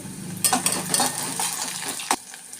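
Onion pieces fry in a pan for crab curry, cooked until golden. A soft sizzle sits under close spoon-against-pan stirring clatter, with several sharp clinks and one loud clack near the end.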